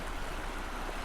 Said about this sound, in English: enjoy this beautiful river that runs alongside the trail